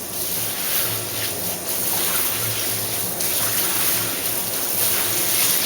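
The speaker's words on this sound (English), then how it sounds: "just fill up the sink with the ice cold water" Ice-cold water runs from a tap into a kitchen sink being filled for washing collard greens, a steady, close, rushing hiss with no break.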